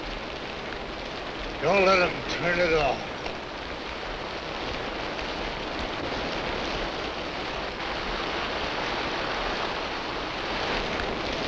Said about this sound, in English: The rain kept coming, more than we needed.